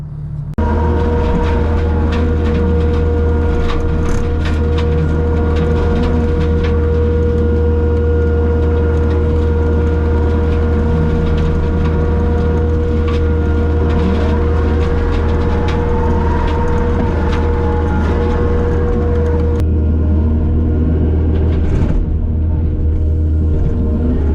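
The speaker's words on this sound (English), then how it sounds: "So I'm taking the skid steer and brush mower through here, and we're gonna clean some of this up." A skid steer fitted with a brush mower clearing brush for pasture produces a loud, steady engine drone and heavy mechanical rumble throughout, shifting slightly in tone near the end, with no speech.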